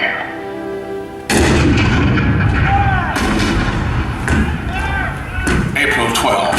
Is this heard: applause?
no